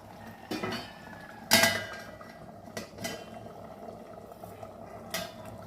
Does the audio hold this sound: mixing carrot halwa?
yes